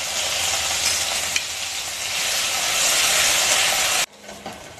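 A spoonful of grated ginger sizzles loudly in hot oil while being stirred, a dense hissing roar close up that runs steadily for four seconds, then drops sharply to a quieter sizzle.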